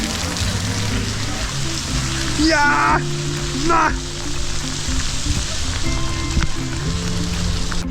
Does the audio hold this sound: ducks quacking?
no